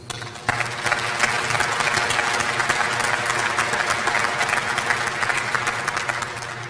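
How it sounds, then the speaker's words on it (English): Steady applause from a graduation audience honoring families and supporters of an ILEA basic class, a dense continuous wash of clapping that starts abruptly and holds at an even level throughout. "If we can all give an applause to our families and supporters"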